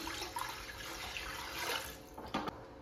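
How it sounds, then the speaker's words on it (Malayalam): Water is poured into a biryani pot, a steady soft splashing stream that runs at moderate distance for about three seconds, with a brief louder splash near the end and no speech. "ബിരിയാണി പോട്ടിലേക്ക് ഒരു 3¾ ഗ്ലാസ് വെള്ളം ചേർത്ത് കൊടുക്കാം."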